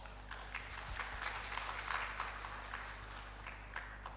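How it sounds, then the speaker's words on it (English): Audience at a conference talk applauds the speaker with light, steady clapping over a low hum, fairly faint and sustained for a few seconds. "Big round of applause for George."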